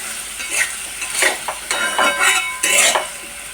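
Flat beans, potato and eggplant frying with crisp fried onions in a pan, sizzling in bursts as they are stirred, with utensil scrapes against the pan.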